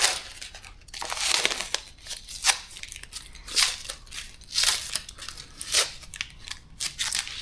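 Adhesive tape peeled in short crackly pulls from a paint roller's nap to lift lint, a string of close, dry rasping bursts with brief pauses between.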